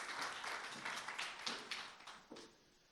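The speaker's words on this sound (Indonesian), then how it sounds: "Boleh di-extend tepuk tangannya buat worship leaders dan para musicians" A church congregation at a Sunday worship service claps for the worship leaders and musicians, a faint scattered patter of hands that thins out and fades over a few seconds.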